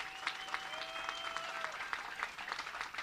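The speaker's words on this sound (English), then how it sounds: "Let's give another round of applause to Fining Friday and to all the speakers who are up here." An audience claps for the speakers at a public speaking event, producing a dense, steady round of applause with a faint high whine running through part of it.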